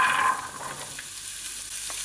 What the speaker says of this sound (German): Jetzt gebe ich in die Pfanne das ganze Gemüse rein